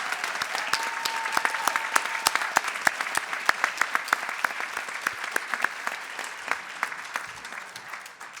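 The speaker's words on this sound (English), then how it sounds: "Let's give those distinguished guests a big round of applause." Loud, steady applause from an audience at a high school rededication ceremony, dense clapping with a few sharper claps standing out, sustained for several seconds without speech.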